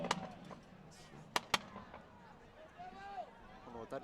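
A car backfire near a high school football sectional game, heard as two sharp, loud pops close together amid ongoing commentary and background crowd noise.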